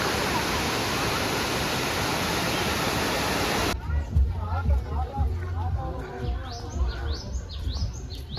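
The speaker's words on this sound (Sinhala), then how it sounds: "මේ ඇල්ල මීටර 25ක් වගේ කුසක් තියෙන ඇල්ලක්" A waterfall with a deep pool about 25 metres across near Ella, Sri Lanka, roars as a loud, steady rush, then gives way abruptly to a quieter scene with birds chirping.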